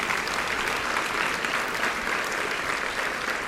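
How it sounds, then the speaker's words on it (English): Audience applause at a Rotary Club luncheon meeting, a dense, even wash of many hands clapping, moderately loud and sustained throughout with little else heard. "Let's give them a round of applause, please."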